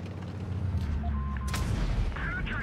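A Carro P88 tank cannon in World of Tanks fires an armor-piercing shell, one sharp close blast over a low engine rumble, followed by brief metallic pings.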